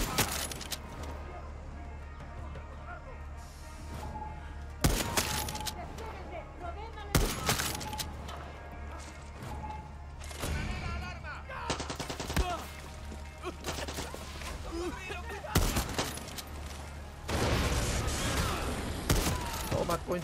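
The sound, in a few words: gunshots in a video game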